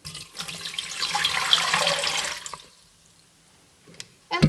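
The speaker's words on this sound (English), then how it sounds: "I cover the meat with water," Water running into a pot to cover beef for borscht broth, a steady pouring rush for a couple of seconds that then trails off, followed by a few faint knocks and a short clatter at the end.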